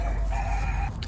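A Buff Orpington rooster gives a single loud, close crow, a brief sustained call cut short near the end.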